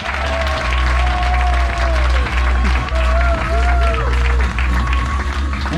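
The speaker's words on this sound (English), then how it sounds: "Big round of applause for Vladimir" Audience applause in a dining event hall, steady clapping throughout with cheering voices and loud low rumble underneath.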